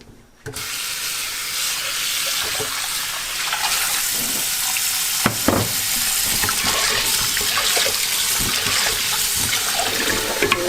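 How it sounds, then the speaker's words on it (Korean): Pork back-bones for stew being rinsed under a tap; loud running water pours steadily for about ten seconds, with occasional splashes and clunks as the meat is handled. "자 고기를 물에 한 번 헹구시고"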